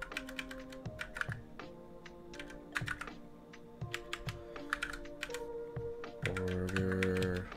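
Keys on a computer keyboard clack in quick irregular bursts of close typing, with short pauses and a steady hum underneath.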